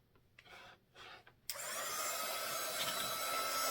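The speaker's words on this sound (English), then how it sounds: "now I'm going to use my embossing gun" An embossing heat gun switches on with a sudden jump to a steady, loud rushing whoosh of hot air that continues unbroken after a few quiet handling sounds.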